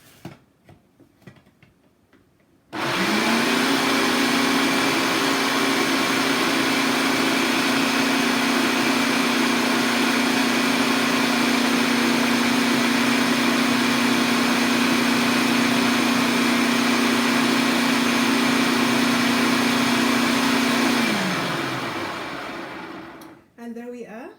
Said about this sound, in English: I'm going to blend it again just to make sure that I mix up all my dry spices and ingredients together.